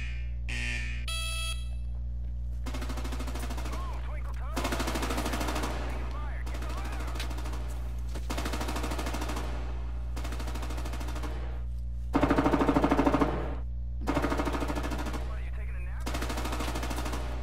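Machine gun fire at an army training ground: a series of loud automatic bursts, each a second or two long, repeat at a steady pace over a constant low electrical hum.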